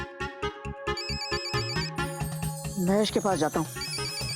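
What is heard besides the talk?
mobile phone ringing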